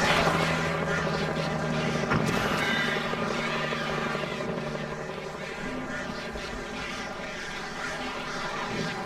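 A helicopter in the video game Alan Wake flies with a steady, loud rotor and engine drone that fills the whole stretch, dense and continuous with a slight sway in level.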